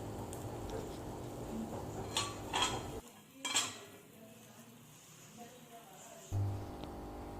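A metal lid settles over a kuli paniyaram pan on a low flame, giving a few close metallic clinks and clatters, with quiet pauses between them.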